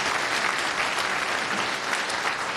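A room full of people applauding a speaker at a tech talk about AI and Go, sustained dense clapping at an even level from start to finish, with no voices standing out.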